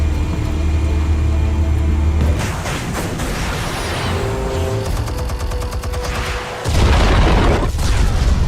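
Explosions and gunfire-like blasts in the Batman Telltale Series video game, loud bursts with rumbling booms and crackling debris layered over a continuous low hum, with a brief drop before another heavy blast near the end.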